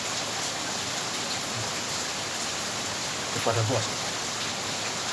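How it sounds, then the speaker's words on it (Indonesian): Steady rain falls as a broad, even hiss throughout, with a brief burst of speech near the end. "Jadi di balik ini ada hujan."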